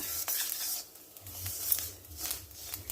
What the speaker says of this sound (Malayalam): ഇത് ഞാനിട്ട് നമ്മൾ തേങ്ങ വറുക്കാൻ വെച്ചേക്കുന്നതാണ് ഈ ഇരുമ്പേട്ടി